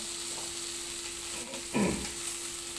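Kerala-style fish fries in a pan over a low gas flame, giving a steady close sizzle with a brief louder crackle partway through.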